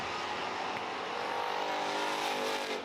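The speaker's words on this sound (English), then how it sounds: "You can hear one car popping around the racetrack. Somebody's engine not healthy." A race car with an unhealthy engine circles the Humberstone Speedway track, its engine a steady, droning roar throughout, moderately distant, with slight popping irregularities.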